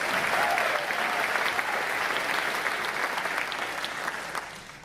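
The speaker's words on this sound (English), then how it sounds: "Can we just give them another round of applause?" Concert audience in New York applauding the musical team and cantors, a full sustained round of crowd clapping that gradually softens over several seconds.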